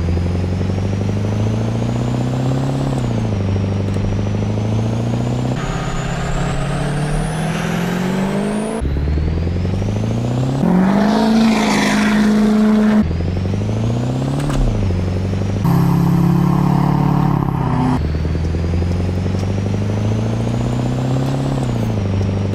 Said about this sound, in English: you can hear that it actually sounds like a Duramax in real life